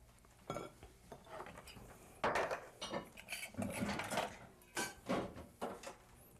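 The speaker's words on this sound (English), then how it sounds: "we're going to mix up the farfalle with the pesto" Farfalle pasta tossed with pesto in a bowl: quiet, close clinks and scrapes of a utensil against the bowl, in uneven bursts of stirring with a soft wet undertone and no voices.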